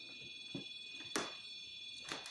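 A steady high electronic tone drones continuously, with a few faint knocks and thuds underneath it.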